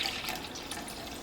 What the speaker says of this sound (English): I'll go ahead and measure out 3 cups of our chicken broth.